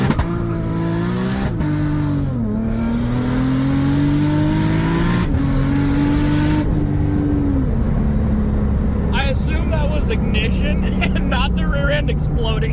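A turbocharged 2JZ-swapped Nissan S14 with an 8HP70 gearbox launches in first gear, its engine roaring loud and close, revs climbing and dipping, then dropping into a rough, crackling rumble.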